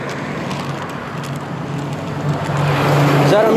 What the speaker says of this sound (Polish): Jakiś samochód.